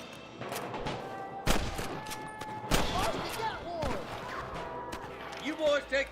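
Gunshots in the Western video game Red Dead Redemption: two sharp, loud shots stand out over a busy mix of game sounds, with voices talking in between.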